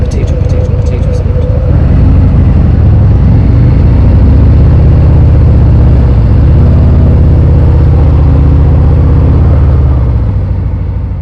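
Riding a 2023 Harley-Davidson Sport Glide 107, the engine gives a loud continuous low throb that rises and shifts slightly in pitch as the bike pulls along, close up under road and wind noise.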